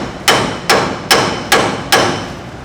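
Five hard hammer blows strike the outside of a car's wheel spindle where a stud passes through, spaced about every 0.4 seconds, each a sharp, loud metallic impact with a short ring, no voices.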